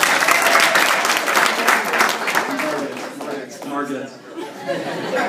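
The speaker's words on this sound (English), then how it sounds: "A round of applause for the ladies, please." A wedding reception crowd claps in dense, lively applause that gradually thins out, with chatter and a little laughter mixed in.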